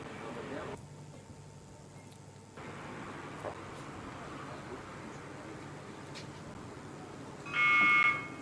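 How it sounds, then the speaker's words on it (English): A short, loud electronic start buzzer sounds near the end of a rowing race start, following a stretch of muted background noise and crowd murmur. "Such tense moments before the buzzer goes and the light turns green"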